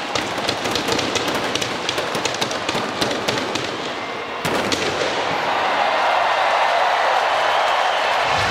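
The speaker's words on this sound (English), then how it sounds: "As if you couldn't guess, we are in the home of fireworks in China." Fireworks burst over a rugby stadium in Hong Kong before a sevens cup final, a dense rapid crackle of loud bangs and pops that gives way to a sustained roar of crowd noise.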